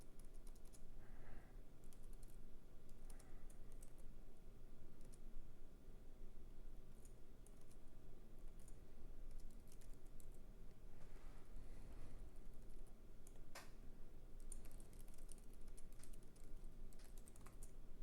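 Continuous keyboard typing as a simple if-statement program is written on a computer: a steady stream of light, close key clicks for about eighteen seconds, with no talking.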